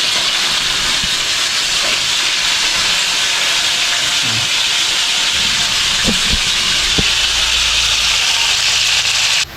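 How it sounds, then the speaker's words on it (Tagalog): Food sizzles and hisses in a frying pan in a home kitchen, a steady broadband hiss filling the whole stretch with a few faint clicks and knocks of utensils underneath. "Habang nagpiprito tayo guys"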